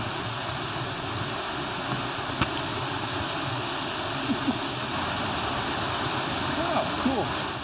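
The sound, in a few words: flowing water at the Castor Shut-Ins swimming hole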